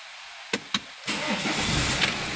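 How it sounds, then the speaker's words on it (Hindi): A BMW 520d diesel with an intermittent starting problem gives two sharp clicks, then its engine cranks and catches within a second and settles into a steady, fairly loud run close by. "तो चलो एक बार गाड़ी को स्टार्ट करता हूँ।"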